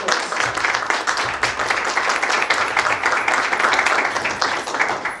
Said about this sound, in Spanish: un aplauso por favor muy cordial para todos